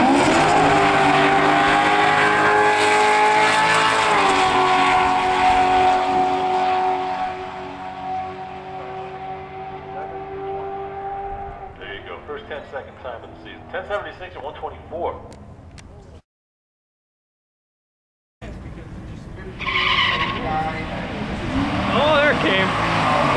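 A Pontiac G8 rear-wheel-drive car with nitrous accelerating hard, a loud sustained engine roar rising in pitch and then fading into rougher noise, with a brief silent gap before the engine returns; people talk over it.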